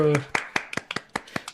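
A few people clapping during a Dungeons & Dragons game session, a short, sparse round of about nine separate claps with some voices at the start.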